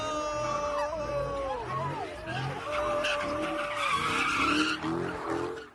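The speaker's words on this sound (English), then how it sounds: "Some call this hot rodding or doing donuts, but it's actually called drifting." Cars drifting late at night on a city street on Detroit's west side, tires squealing in long wavering screeches over loud engine roar, continuous and close.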